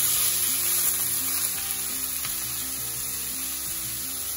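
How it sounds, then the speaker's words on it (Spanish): Ground beef for sopes sizzles steadily in very hot oil, a constant, close frying hiss with low background hum and no talk. "Ahora la vamos a poner a freír. Y aquí tengo ya mi aceite bien caliente."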